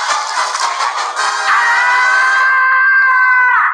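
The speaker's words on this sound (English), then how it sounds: "Oh yeah, the Tom and Jerry scream." A drawn-out, high-pitched cartoon scream, the Tom and Jerry scream heard in a South Park episode, rings loud and shrill for nearly four seconds. It wavers at first, then holds steady before cutting off.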